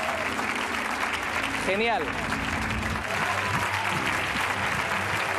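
Steady applause from an audience fills the clip, with a voice speaking briefly over the clapping.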